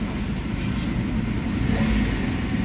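A Toyota Avanza engine with low power, delayed throttle response and vibration runs close and loud with a steady, rumbling mid-range roar, holding fairly constant throughout without voices.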